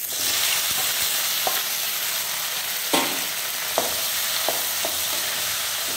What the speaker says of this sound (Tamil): இந்த வெண்டைக்காயை அந்த எண்ணெயில் போடணும்